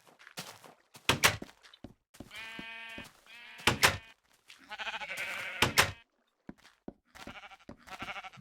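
Sheep on a sheep farm in Minecraft, bleating repeatedly in short separate calls, several overlapping sheep close by, with sharp thunks and footstep clicks between the bleats, no talking.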